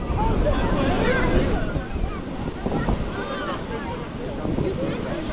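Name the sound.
waves on Labadi Beach, Accra, Ghana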